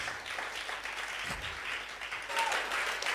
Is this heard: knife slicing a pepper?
no